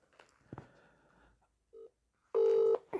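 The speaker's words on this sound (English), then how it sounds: "Ringing up Christopher Browell." Telephone keypad tones sound during a call: a short beep, then a longer, louder two-tone dialing note after some quiet, faint handling noises around them.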